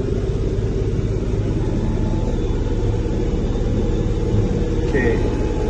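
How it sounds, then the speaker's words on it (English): A tractor engine strains under load, pulling a laser land leveler scraper across a pasture. The heavy, low, steady rumble runs continuously, and a person talks over it. "The tractor's struggling."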